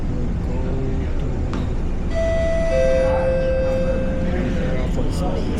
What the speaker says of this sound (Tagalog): So, this train is going to Tanamera MRT.